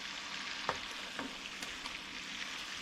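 Swedish meatballs fry in butter with a steady close sizzle and crackle, while a few soft clicks and scrapes of stirring break through the hiss at intervals.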